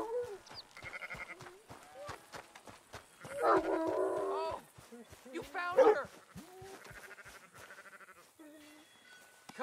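Dog barking in the game Red Dead Redemption 2, several short yelps and barks scattered between a man's spoken lines, moderately close.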